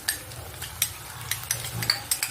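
Goda masala is sautéed in oil with coriander for an egg curry, a soft sizzle punctuated by repeated clinking scrapes of a spoon stirring against the pan.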